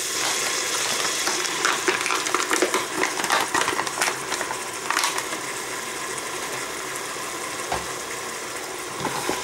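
About 100 grams of lardons browning in a pot crackle and sizzle close by, with irregular stirring scrapes and pops over a steady fry hiss, without speech.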